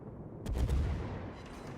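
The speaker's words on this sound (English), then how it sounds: "Richelieu is still blasting up here. He is firing our piercing" Battleship Richelieu fires its main guns in the World of Warships video game, a single heavy booming salvo that swells and rolls off over a couple of seconds.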